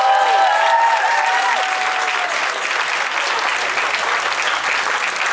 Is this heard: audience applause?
yes